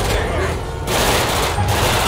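Sustained dense gunfire from a firefight in the video game GTA 5, a continuous rattling barrage of shots that runs loud and steady through the whole stretch with brief dips.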